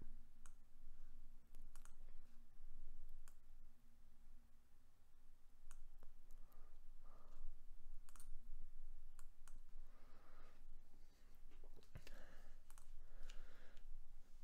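Repeated sharp mouse clicks at an irregular pace, close and crisp, over a low steady hum with no talking.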